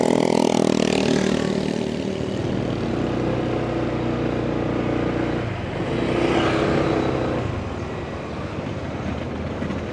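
Several fast cars rush past on a busy road, with a steady engine rumble and one loud, close pass-by swelling near the middle before fading; no one speaks.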